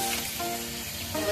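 Cleaned crab hits a pan of cooked-down tomato masala for a crab roast, giving a brief, steady hiss of sizzling close by.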